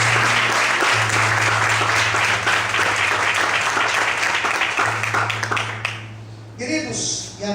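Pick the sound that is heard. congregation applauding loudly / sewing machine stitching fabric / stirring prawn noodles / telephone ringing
congregation applauding loudly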